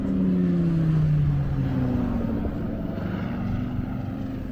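A Volkswagen T2 Transporter with German plates, said to carry a Porsche engine, passes on its way to the Goodwood Festival of Speed: a loud, close engine drone whose pitch sinks steadily as it goes by, with no talk.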